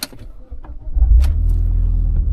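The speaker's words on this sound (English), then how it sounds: "Listen to this car when you start it up" A car engine cranks over and catches, settling straight into a loud, steady low rumble at close range after a few short clicks and clunks.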